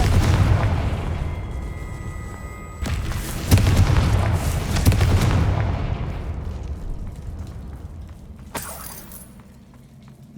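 A Confringo fire spell detonates in Hogwarts Legacy: a loud, close booming blast with a crackling rumble that slowly dies away, followed by a sharp brief burst near the end.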